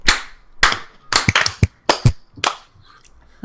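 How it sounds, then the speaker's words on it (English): A few people in a livestreamed podcast studio clap to sync their recordings, giving roughly seven sharp, separate claps in an uneven rhythm, close and crisp with quiet gaps between them. "All right, then we had better do our claps."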